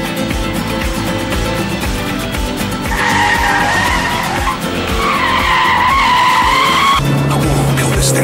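A Skoda diesel and a Mini Cooper race into the first corner under hard braking, with a loud, continuous engine roar and rising tire squeal and skidding from close by.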